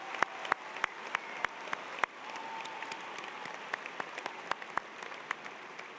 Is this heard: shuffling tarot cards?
no